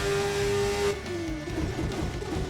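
A race car in a racing video game laps the Kyalami circuit, its engine holding a steady note that drops as the gear changes and then carries on at a lower pitch, close and loud.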